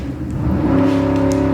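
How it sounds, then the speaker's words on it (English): A BMW M8 fitted with aftermarket downpipes rumbles past nearby, a steady low engine drone with a sustained harmonic tone that swells slightly as it goes by. "It's the M8 with downpipes"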